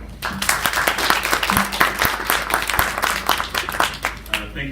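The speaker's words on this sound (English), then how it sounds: "let's give a round of applause and a warm welcome for Jeremy Gable" Audience applause welcomes Jeremy Gable, creator of the game Watch Me Jump, onstage at a talk: dense, steady clapping from a room full of people, fairly loud throughout with a faint murmur underneath.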